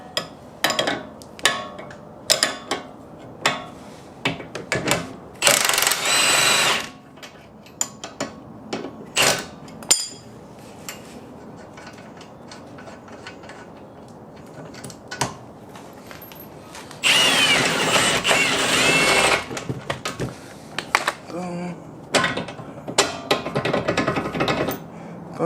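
A 22 and 7/8 socket wrench work the axle nut on an S550 Mustang, with bursts of sharp ratcheting and mechanical clicks, two longer buzzing runs of tool noise, and scattered metallic taps between them, close and fairly loud.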